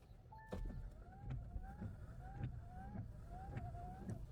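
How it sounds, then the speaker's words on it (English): Kia EV6 windshield wipers fitted with new Bosch Icon blades sweep back and forth, a steady motor hum with a rhythmic swish and faint squeak on each pass. "Testing these new wipers, they're working great, no streaks"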